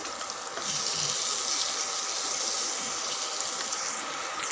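Green chillies and coriander sautéing in a pan for coriander rice, a steady close sizzle and hiss that holds evenly for a few seconds without any talking.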